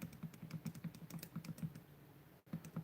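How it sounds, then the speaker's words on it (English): Data typed in on a computer keyboard during a statistics lesson: steady, soft rhythmic keystrokes, close and fairly quiet, with a brief pause before a few more keys. "Now, some things that we do need to know while I'm typing this in."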